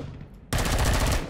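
Rapid automatic gunfire from a weapon in the video game Empyrion Galactic Survival bursts in suddenly and loudly after a quiet moment, a dense sustained volley with no talk.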